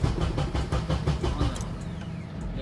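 A Nissan 240SX S14 engine cranking over on the starter, a fast rhythmic chugging pulse for about a second and a half before it fades into a lower steady rumble, close and fairly loud.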